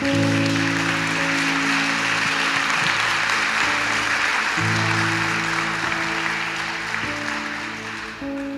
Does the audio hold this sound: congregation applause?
yes